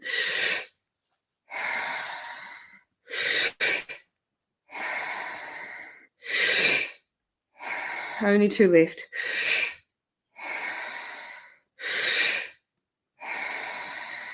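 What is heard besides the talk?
guided deep breathing in and out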